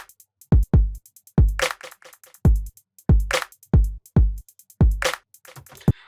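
Hip hop beat programmed in FL Studio, with punchy kicks and snares plus a wood block hitting in a steady, looping pattern, loud and close with no voices over it.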